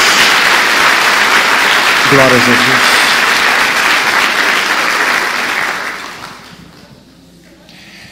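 A church congregation applauds for Jesus, loud dense clapping with a brief spoken exclamation over it, fading away toward the end.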